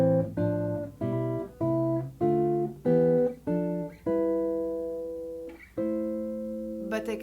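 Minor triad guitar chords strummed one after another in a steady rhythm, each ringing briefly, then a final chord left to sustain and fade, with no voices.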